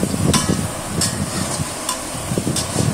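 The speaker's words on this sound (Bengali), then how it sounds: "পাঁচফোড়ন একসাথে গোটা জিরা ভালো করে ভেজে নিচ্ছি" Bay leaf, panch phoron and whole cumin fry in hot oil along with onion, green chilli and garlic, a steady sizzle broken by repeated scraping stirs of a spoon against the pan.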